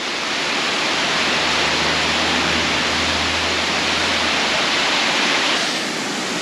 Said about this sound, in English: There's these little mountain streams and waterfalls absolutely everywhere.